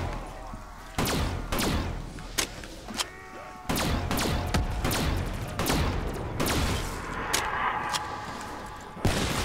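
Gunfire in Black Ops 3 Zombies on The Giant map, with sniper rifle shots landing as a series of sharp, booming reports spread across the stretch amid continuous game noise and background effects.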